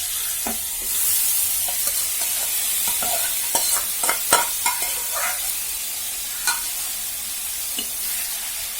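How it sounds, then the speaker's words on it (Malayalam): Chopped pineapple sautéed in a pan for pickle: a soft sizzle runs under a series of sharp spatula scrapes and clacks that cluster in the middle, with no talking. "നമുക്കത് പൈനാപ്പിൾ അരിഞ്ഞ് വെച്ചത് ഇതിലേക്ക് ഇട്ട് കൊടുക്കാം കേട്ടോ"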